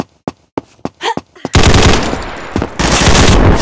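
Loud rapid gunfire in the video game Combat Master: a few sharp single shots, then a sustained automatic burst, close and dominant.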